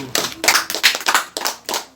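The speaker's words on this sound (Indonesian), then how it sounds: "Tepuk tangan." A small group in a classroom lesson claps in short uneven bursts, sharp hand slaps overlapping close by, with tiny gaps between the rounds.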